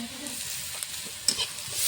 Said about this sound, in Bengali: পেঁয়াজ রসুন লঙ্কাটা দেখো ভালো করে ভেজে নিয়েছি